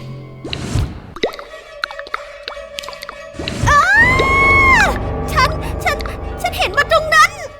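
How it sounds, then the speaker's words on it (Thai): Water drips onto a floor several times as an eerie effect in an animated Thai ghost story, heard as distinct plops scattered among voices and tonal sounds. "จู่ๆเธอก็ได้ยินเสียงน้ำหยดลงพื้นหลายครั้ง"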